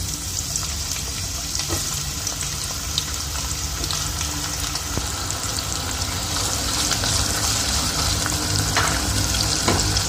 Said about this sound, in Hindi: आधा प्याली हमने ऑयल अपनी पतीली में डाल दिया है और हमने 4 से 5 हमने प्याज डाल देनी है इसमें।